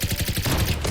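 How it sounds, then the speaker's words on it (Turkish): A fast, loud burst from the new alien gun in the Zula shooter game, with the shots blurring into a dense rattle partway through. "yeni silah sesi bu şekilde"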